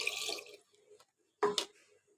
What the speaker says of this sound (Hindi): अब इसके अंदर मैं कुछ पानी और डाल दूँगी